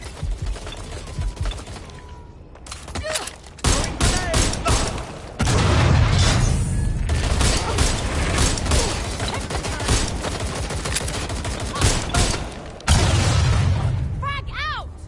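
Gunfire in Watch Dogs: Legion, bursts of rapid shots and booming impacts crackling through a busy, loud mix, with voices talking over parts of it.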